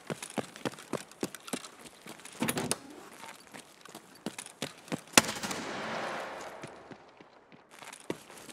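A frag grenade bursts in Escape From Tarkov amid sharp scattered gunshots and clattering movement, the blast a sudden loud crack followed by a rolling, fading rumble.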